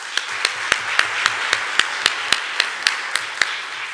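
Steady, evenly spaced claps from a small group at a board of supervisors public hearing, each sharp and distinct, in a slow regular rhythm with little room noise between them.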